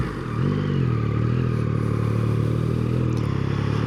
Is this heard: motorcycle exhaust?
yes